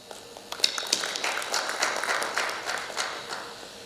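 Audience applause at an architecture and interior design event, starting sparse and swelling into a dense, sustained clatter of hands that holds steady to the end.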